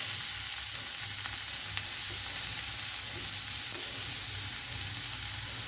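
Finely chopped onion frying in cooking oil in a hot pan gives a steady, close, even sizzle with faint crackles and no voices.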